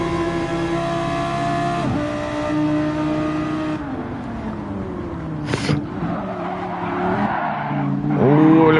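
A race car in a racing video game locks its brakes and skids, with engine tones sliding down in pitch, a sharp squeal burst near the middle and loud revving at the end; no voices.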